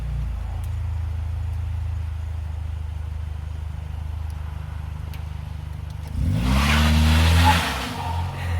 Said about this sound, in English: Do a reverse burnout.